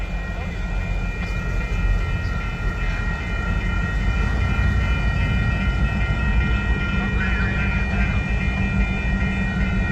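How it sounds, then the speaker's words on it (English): A train led by a TCNW locomotive rolls past in St Paul, Minnesota, a loud, continuous rumble with a steady high metallic whine and a few faint tonal accents throughout. "TCNW is the leading locomotive."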